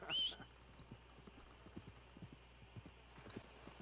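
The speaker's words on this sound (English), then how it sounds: "Oh, horse is coming." Horse hooves in Red Dead Redemption 2 clop faintly and rhythmically as the animal approaches, starting with a short whinny, against a low steady hum.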